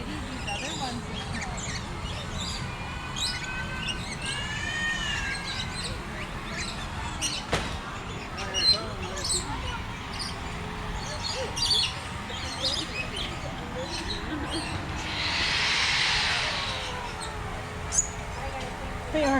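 Conure parrots at the Nashville Zoo give scattered chirps and squawky calls amid a busy aviary background, with people talking nearby throughout.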